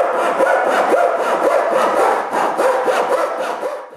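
Plywood strips cut with a hand saw in a home workshop, a steady rhythm of rasping back-and-forth strokes, close and loud, with no voices.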